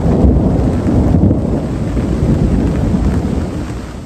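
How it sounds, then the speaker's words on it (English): Loud thunder rumbles in a deep, continuous roll, heavy and close, blended with a windy, rain-like rush, and nothing else stands out throughout. "whenever there was thunder, like really loud thunder."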